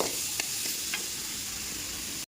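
Onions and curry leaves fry in a pan for a Sri Lankan egg gravy, giving a steady close sizzle with a few faint stirring clicks before it cuts off abruptly.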